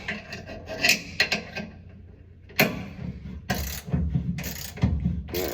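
A ratchet wrench tightens trailer hitch receiver bolts on a 2013 Ford F-150 XL, giving close, uneven bursts of clicking and rasping with short pauses between strokes, no talking.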